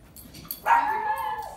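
A dog gives one sudden, drawn-out whining yelp at close range. It is loud and clear and holds for about a second with no talk over it.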